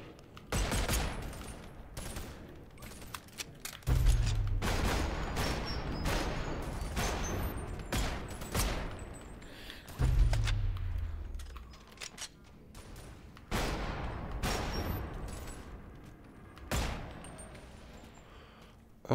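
Rapid bursts of gunfire in the virtual reality game BONELAB, sharp repeated volleys with short pauses between, loud and up close, several separate bursts spread across the span.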